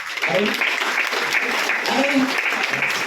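An audience claps at a Mi Lifestyle Marketing seminar in Kanhangad, steady applause running under a voice throughout.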